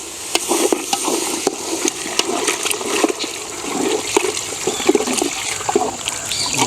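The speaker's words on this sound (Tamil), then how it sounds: "அந்த தண்ணியை இப்போ கிரேவிக்கு சேர்த்துக்கிறோம்." Broth from boiled mutton head is poured into a simmering village-style gravy, a steady close splashing and gurgling flow of liquid lasting several seconds.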